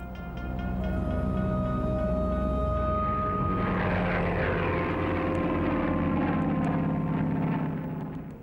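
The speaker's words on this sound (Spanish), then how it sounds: "El Aichi D-3A1 fue el avión principal de la Marina japonesa durante los primeros años de la Segunda Guerra Mundial." An Aichi D3A1 dive bomber's Mitsubishi Kinsei 44 radial engine: a loud, steady propeller drone that swells and holds for several seconds, then eases slightly at the end.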